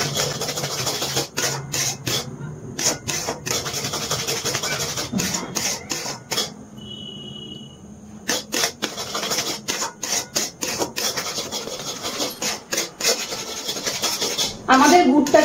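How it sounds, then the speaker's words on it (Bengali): A spatula works jaggery around a pan over a low flame while sesame laddoos are being made. Repeated close scraping strokes come in an uneven rhythm, broken by short gaps, and grow busier toward the end. "এবারে গ্যাসের ফ্লেমটা একদম লোতে রেখে আমি অনবরত নাড়াচাড়া করছি"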